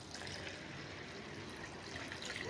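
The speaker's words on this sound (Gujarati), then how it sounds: "એમાં નાખશું પાણી." Water poured into a bowl of soaked urad dal, a faint, steady trickling pour that runs on without pause and with no voices over it.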